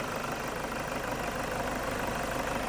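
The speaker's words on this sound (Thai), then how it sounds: "นี่ผมให้ดูเครื่องยนต์นะครับ นี่ครับ นิ่งเลยครับเครื่องดีครับคันนี้" Car engine idling smoothly and steadily, a continuous even hum with no gaps or revving, heard close up with the hood open.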